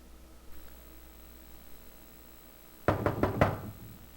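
Four sharp knocks on an apartment door in The X-Files video game, coming in a quick cluster after a quiet stretch of faint room tone, close and fairly loud.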